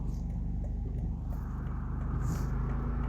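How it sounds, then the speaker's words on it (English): A high bus pushes through deep flood water on a street in Barbican, Jamaica, a loud close engine rumble with a low droning hum and some splashing wash, steady across the short stretch. "here's a bus coming"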